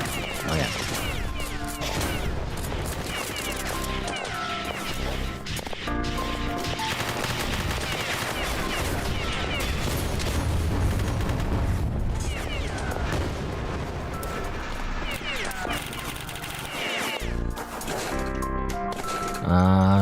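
Automated turrets firing in a shooter video game, mixed with dense, continuous bursts of gunfire and loud impacts that fill the whole stretch with little pause.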